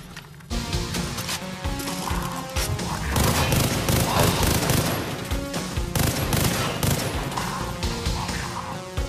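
Rapid bursts of gunfire in the video game Far Cry 3: Blood Dragon crackle in dense, repeated volleys after a brief quiet start, loud and close, with sharp impacts layered over a continuous game soundtrack.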